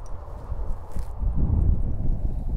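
A horse lopes under a rider, its hoofbeats a muffled, steady low thudding rhythm over ground, close and continuous with slight rumble.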